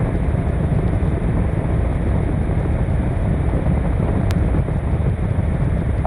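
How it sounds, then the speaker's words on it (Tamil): Wind blows across the Malshej Ghat mountain pass as a steady, loud roar buffeting the microphone, with no let-up. "அப்படியே காற்று வீசுறது"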